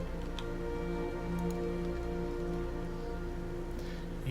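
Steady rain hisses evenly in the fantasy role-playing game Pillars of Eternity near a village inn, with soft pattering throughout and a low musical ambience underneath.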